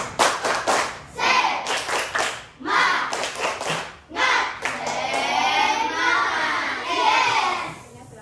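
A fifth-grade class doing a rhythmic 'tepuk semangat' spirit clap, with children clapping loudly in patterned bursts and pauses, their voices chanting along throughout.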